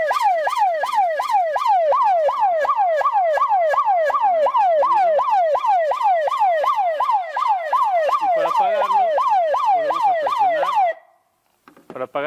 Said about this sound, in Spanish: El estrobo prende y también la sirena suena.